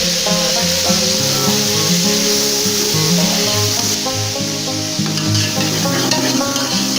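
Loud, steady sizzling and hissing of chopped tomatoes frying with onions in a hot pan, with background music playing throughout.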